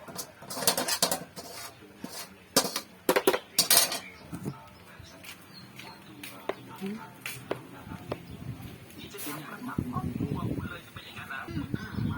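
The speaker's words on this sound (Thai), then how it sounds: "อันนี้ผัด ผัดไส้มันเกือบเสร็จละ" Sweet filling for Thai khanom tian being stir-fried in a pan, heard as clattering utensil scrapes and knocks against the metal in irregular bursts, with a softer continuous cooking hiss and low background noise between them.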